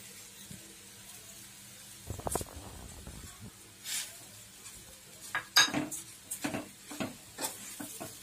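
Sweet potato halwa being stirred in a pan after sugar goes in, with quiet intermittent scrapes and clinks of a utensil against the metal over a faint sizzle, close but soft.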